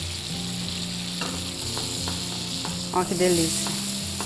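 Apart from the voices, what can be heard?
sage leaves frying in butter in a pan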